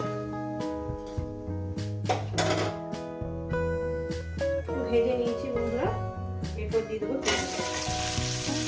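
Whole spices sizzling and frying in hot oil for a chicken curry, a steady crackle under background music, with a burst of stronger sizzling near the end.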